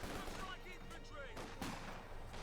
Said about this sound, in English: Rifle grenade off again.